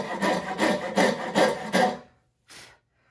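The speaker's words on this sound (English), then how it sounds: "I can keep sawing, blowing away sawdust, following that line." A coping saw cuts through wood in about six rhythmic rasping strokes, close and clear, then a pause and one last short stroke, with no voices.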